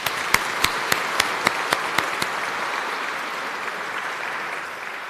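An audience in Carlow Cathedral at the JP II Awards applauds the Newbridge and Portlaoise groups. A few sharp, distinct claps ring out first, then blend into a steady round of clapping that gradually tapers off.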